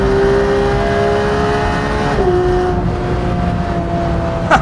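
A 991-generation Porsche 911 GT3 accelerating hard, its engine a loud sustained high-revving roar that climbs in pitch, drops at a gear change, then keeps pulling.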